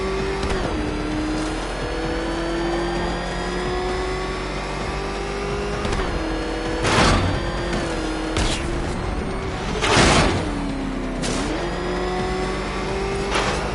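In Batman: Arkham Knight the Batmobile's engine drones loudly and continuously, with its pitch rising and dipping as it shifts. Several sharp whooshing bursts and impacts cut across the steady roar.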